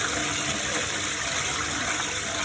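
A toilet flushes to rinse a soiled cloth diaper, producing a steady rushing gush of water that continues without a break.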